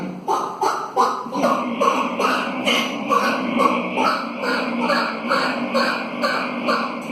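A human voice imitates a duck, a chicken and an auto-rickshaw all at once: loud, rapid, rhythmic quacking and clucking pulses run over a buzzing engine-like drone, close and continuous for several seconds.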